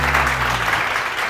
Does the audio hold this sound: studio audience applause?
yes